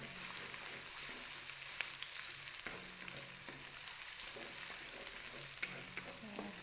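A soft, steady sizzle of onions frying in a pan, with faint scraping of a spoon stirring now and then.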